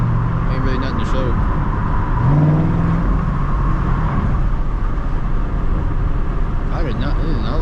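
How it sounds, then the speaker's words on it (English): Ford Mustang with a 3-valve engine driven at night, a steady, loud engine drone with low rumbling throughout and slight rises in revs as the car moves along. "I'm purposely taking this way just so y'all can actually hear the car"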